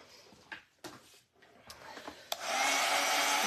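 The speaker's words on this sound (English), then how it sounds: "And then I'm going to grab the dryer real quick." A hair dryer switches on and blows steadily at close range for the last second of the clip, drying paint, after a few handling clicks and knocks.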